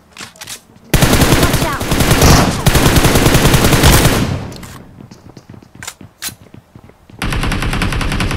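Gunfire in an online multiplayer shooter game, with long loud bursts of automatic fire, pauses with scattered single shots, then another sustained burst near the end, with no talking over it.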